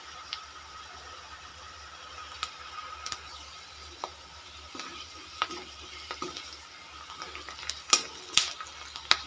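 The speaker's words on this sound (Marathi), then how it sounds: "मस्त तेलात असं परतून घेते छान प्रकारे." Peanuts frying in hot oil, a quiet, soft sizzle with scattered small pops and crackles, faint and close, with no talking.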